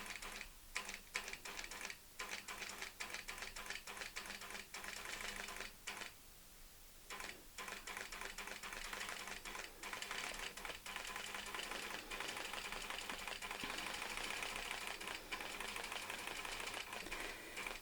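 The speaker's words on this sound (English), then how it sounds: "we will sew back all the way back to the beginning" A quilting sewing machine stitches a curved line along a Westalee Curly-Q ruler template, with a steady rapid needle rattle that runs almost without a break and pauses briefly once partway through.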